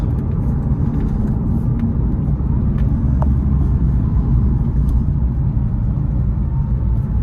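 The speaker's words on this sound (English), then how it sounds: "So a little bit of resonations in the cabin from the tires" 2006 Porsche 911 Carrera S Cabriolet six-speed cruising on a Southern California road on old tires, a steady low road rumble and droning tire resonance inside the cabin, continuous and fairly loud with no talking.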